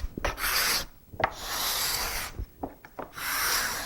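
Close, rasping strokes of a cabinet scraper shaving Brazilian cherry wood, several long back-and-forth passes separated by brief gaps.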